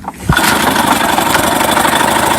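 Mercury 8HP outboard engine catching and settling into a steady, close idle, a continuous even putter running alone after a brief start.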